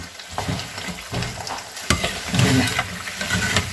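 Thattai, a crisp South Indian rice snack, frying in hot oil over a medium flame, with a steady close bubbling sizzle and occasional stirring clinks, loud and continuous with no talking.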